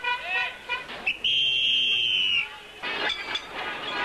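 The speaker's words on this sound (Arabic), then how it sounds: "ومما يربك المرور في الشارع مع كل ترام يمر على كل محطة." Tram passing a stop on Muhammad Ali Street in Cairo, with a sustained high metallic squeal for about a second mid-clip amid street noise and brief rumbling before and after.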